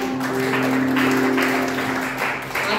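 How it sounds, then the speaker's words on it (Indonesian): A church congregation claps together during a Christmas Day service, a full continuous round of applause with a sustained organ or keyboard tone ringing underneath. "Kita tepuk tangan untuk Tuhan."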